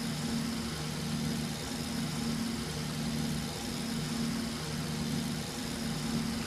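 Steady, even drone of a Cessna Golden Eagle piston engine in the FlightGear flight simulator at reduced power, a constant hum with no breaks and no talking.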